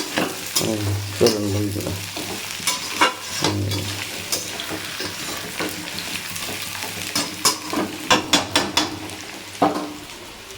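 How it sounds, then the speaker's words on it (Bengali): Taro stolons being stirred and fried with spices in a pan, a steady sizzle running throughout with repeated scraping and clinking of the spoon against the pan, close and moderately loud, with a brief spoken phrase. "লতিটা দিয়ে একটু নাড়াচাড়া করে মশলা দিয়ে খুব করে রান্না করব।"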